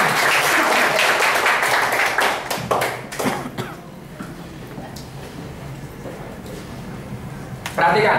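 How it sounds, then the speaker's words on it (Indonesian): A group at an effective communication training applauds with dense, fairly close clapping for about three seconds, then it thins into scattered claps under low chatter and voices. "Berikan tepuk tangan."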